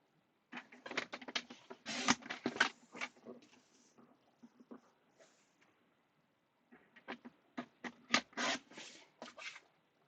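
Card stock for handmade cards is trimmed down, producing close, quiet bursts of cutting and rubbing sounds in two clusters separated by a short pause.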